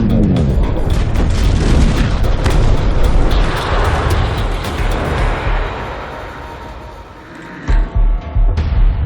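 Jericho missile strike from the Iron Man film, a loud booming blast with a long rolling roar that fades down, followed by a few sharp thuds near the end.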